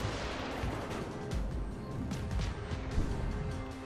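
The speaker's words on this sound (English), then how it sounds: "I've got them fucking battleships shooting at me while I'm trying to kill the DD." Battleship artillery in a naval warfare video game: a dense, continuous barrage of heavy booming gunfire with overlapping blasts, loud and rumbling throughout with no break.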